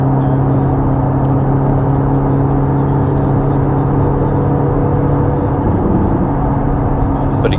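A Corvette ZR1 engine hums in a steady, loud drone from inside the car, holding an even pitch with a slight swell near the end rather than a sharp rev.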